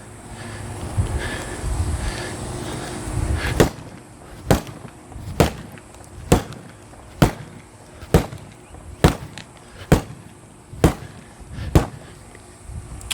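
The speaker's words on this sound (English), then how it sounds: "Let's go ahead and do our cross body chops." Wooden sword cross-body chops striking a pell, about ten sharp, loud cracks at a steady rhythm of roughly one per second, with no talk.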